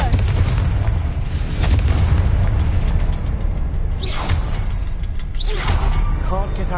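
Fiery Confringo explosion spells burst in a Hogwarts wizarding video game, with a loud, constant low rumble and two sharp whooshing blasts rising near the end.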